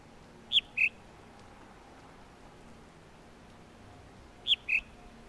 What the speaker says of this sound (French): Le son qu'il faut écouter, c'est l'oiseau qui chante.